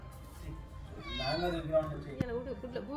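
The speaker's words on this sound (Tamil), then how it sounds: "பிறகு இருக்கு 3 பூனைக்குட்டி" Small kittens meow in high wavering cries, close and fairly loud, with people talking around them indoors.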